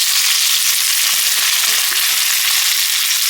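Onions dropped into hot oil left over from frying chicken hiss and crackle in a loud, dense, continuous sizzle close to the pan, with no voices.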